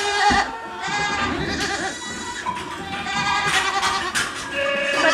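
Several goats on a rainy farm bleat loudly and repeatedly, with overlapping wavering cries close by and a constant barnyard din underneath.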